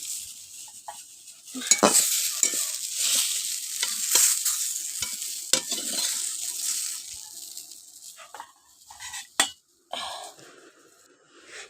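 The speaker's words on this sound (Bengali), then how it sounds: "এবার পটলগুলো হালকা হালকা ভাজা হয়ে গেছে আমি কড়া থেকে তুলে নিচ্ছি" Pointed gourd (potol) fries lightly in oil in a wok, giving a bright steady sizzle broken by sharp stirring scrapes and clinks before it thins out and fades near the end.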